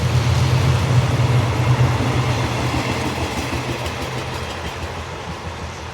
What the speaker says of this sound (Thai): ทำขบวน รถไฟขบวน 257 นะครับ ทนบุรีน้ำตกนะครับ ผ่านไปแล้วนะครับ